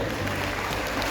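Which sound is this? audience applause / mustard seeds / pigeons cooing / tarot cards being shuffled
audience applause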